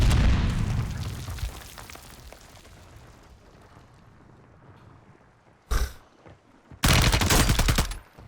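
A grenade blast erupts in the Warzone 3 video game, a heavy, booming roar that fades out. After a lull, two loud, sharp bursts of rapid gunfire follow close together.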